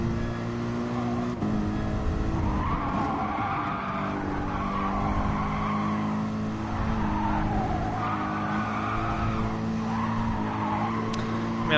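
A Mercedes race car in the GT Sport video game lapping a time trial: a steady engine drone rises and falls with gear changes, while tyres squeal and skid through corners, loud and continuous.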